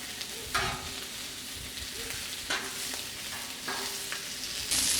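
Dried peppers and tomato charring in a hot pan for a michelada shrimp dish, giving a soft steady sizzle with a few brief scraping stirs and turns, heard close and moderately quiet.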